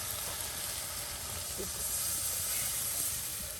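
Water poured onto vegetables frying in spices in a Bengali village kitchen sets off a steady, close hissing sizzle that runs unbroken through the whole moment, with no talking.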